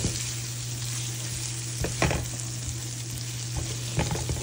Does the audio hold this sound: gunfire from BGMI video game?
no